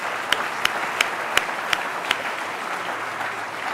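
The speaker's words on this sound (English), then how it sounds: "May I request everyone to give a big round of applause to all our finalists today." Applause fills an awards hall at an entrepreneur-of-the-year event for the finalists, a steady hiss of clapping with a few sharp, evenly spaced knocks in the first half.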